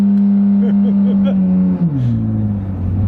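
A car engine drones with its exhaust cutout open, a loud, deep, steady hum that dips and shifts lower in pitch partway through, with faint talk in the background.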